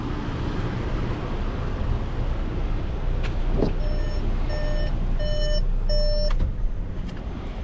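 A 2021 VW Arteon idles as a low, steady rumble, close and alone, while a series of regular electronic beeps sounds over it in the latter half.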